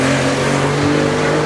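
1994 Toyota Supra drag racing, its engine roaring loud and close at full throttle as it accelerates hard through the gears, a continuous strained tone with no voices.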